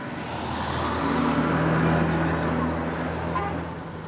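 A car passes nearby on a road in the middle of nowhere in Egypt, a steady rising and fading engine rumble and tyre noise heard alone.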